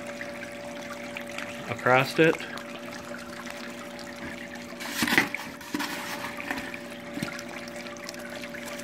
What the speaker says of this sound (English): There goes my water flow.